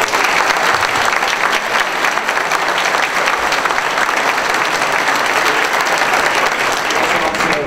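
A large crowd at a county sheriff candidate debate in Forsyth County, Georgia claps steadily and loudly, a dense continuous wash of applause that never lets up.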